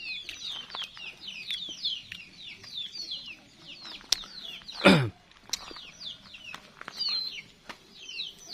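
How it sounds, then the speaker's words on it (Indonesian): Young chicks peep in rapid, high, repeated chirps at close range, a steady busy stream of cheeping with a brief sharp rustle or flutter midway. "Aduh ini anak ayam."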